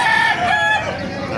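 A Gray Hatch gamefowl rooster crowing loud and close in a single sustained call at a Baliuag market.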